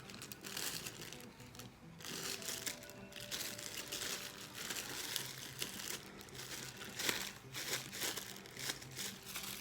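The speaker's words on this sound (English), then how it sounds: "I'm just going to take this brush from the bronze and put it in this Ziploc bag so I can use it for the second coat." Plastic Ziploc bag crinkling steadily as a paint-coated brush from bronze patina paint is slipped inside, close and continuous rustling with crisp crackles throughout, no talking.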